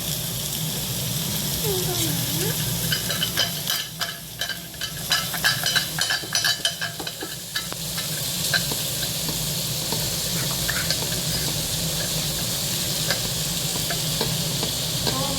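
Onions frying and sizzling in a pan in a home kitchen, a steady broadband hiss under intermittent stirring scrapes and clinks, with a low hum in the background.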